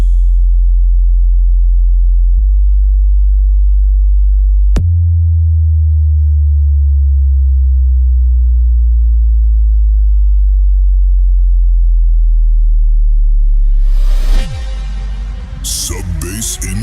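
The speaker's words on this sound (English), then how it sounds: "Sub-bass incoming. Feel it in your chest." Loud sub-bass test tone: a deep steady sine hum that drops in pitch and sweeps downward for about fourteen seconds, then breaks into a harsh, distorted burst at the end.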